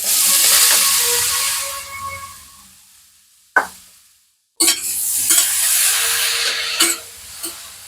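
Cauliflower frying over a high flame in a wok with whole cumin and dried red chillies: loud sizzling and scraping stirs fade, break off into near silence, then resume with repeated spatula scrapes and clacks.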